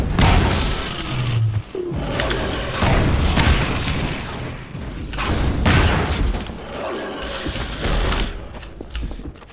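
Barrels shot in Half-Life 2: Episode Two, a dense loud run of thumps, booms and clattering impacts with gunfire mixed in, close and busy throughout, with no voices.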